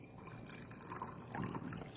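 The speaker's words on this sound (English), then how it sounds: "let me pour myself some tea" Tea pours from a pot into a cup, a soft continuous liquid trickle and splash that swells slightly toward the end, fairly quiet with no talking.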